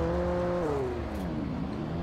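In the video game Alan Wake, a car engine hums steadily at close range and then its pitch sags as the vehicle drives on, with no talk over it.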